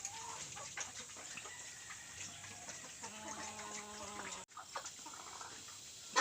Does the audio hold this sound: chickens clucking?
yes